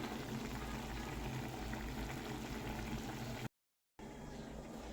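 Food bubbling steadily in a pot with coconut milk, a continuous dense boiling hiss close by that cuts out briefly near the end before resuming.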